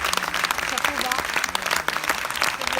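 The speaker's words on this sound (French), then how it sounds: "Applaudissez!" Audience applause at a municipal council ceremony honoring high school graduates, steady dense clapping from a crowd with voices mixed in throughout.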